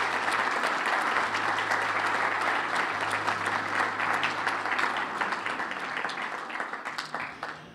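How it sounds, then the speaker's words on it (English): An audience at an awards gala for a chamber of commerce applauds the board of directors, a dense wash of clapping from a full room that holds strong, then thins and fades toward the end. "Please give them a round of applause."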